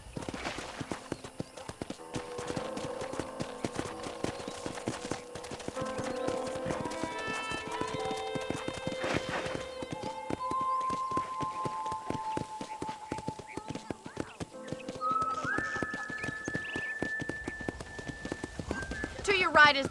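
A horse in the Red Dead Redemption video game trots with a steady, rapid clip-clop of hooves throughout and gives a whinny midway, while game characters talk over it and background music plays.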